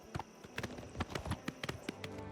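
Hooves of a bay horse in Oblivion Remastered clip-clop in a brisk, irregular series of sharp, close knocks over quiet game ambience.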